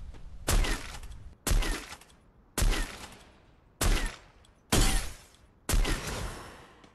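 Sniper rifle shots in the Free Fire mobile game, six loud sharp cracks spaced about a second apart, each followed by a short decaying tail, with no talk.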